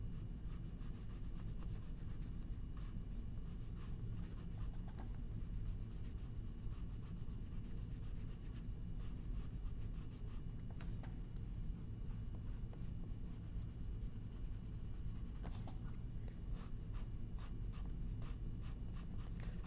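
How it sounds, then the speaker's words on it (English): A pencil scratches steadily across paper, tracing the lines of a cupcake drawing with a constant soft rasp and a few brief sharper strokes, close and quiet. "I am outlining all my pencil lines on"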